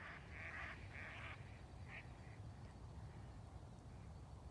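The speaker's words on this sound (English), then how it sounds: "Those are mallard ducks." Wild mallard ducks on a pond give several quiet, distant quacks in a short cluster early on, then one more, over a soft low outdoor background with no talking.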